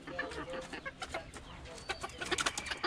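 A bantam hen clucks softly and repeatedly near the microphone, short uneven calls over faint rustling background noise.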